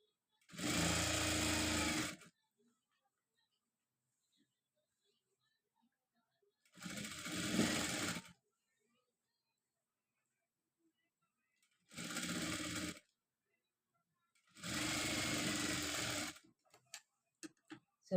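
A sewing machine stitches a frock sleeve in four separate runs, each a steady, loud mechanical whir lasting one to two seconds, with quiet gaps between.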